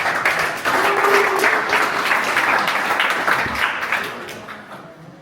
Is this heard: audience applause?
yes